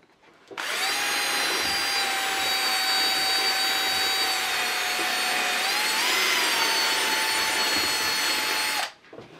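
An electric drill fitted with a half-inch bit bores into a camera case, giving one sustained whining drone for about eight seconds with a brief pitch wobble partway through.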